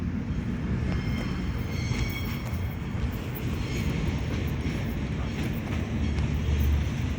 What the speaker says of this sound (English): There's just constant traffic here of trains coming into the central station.